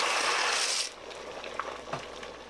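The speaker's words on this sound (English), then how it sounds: "So I'm going to throw pasta in here" Dry pasta is tipped into a pot for pasta e fagioli, making a brief rushing patter, then quieter scattered clinks and scrapes as it is stirred, close by and with no talk.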